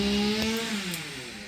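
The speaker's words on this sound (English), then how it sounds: "Speaking of chainsaw" A chainsaw runs steadily nearby in a cold winter camping setting in Michigan, a loud buzzing drone with its pitch sagging slightly as it bogs down.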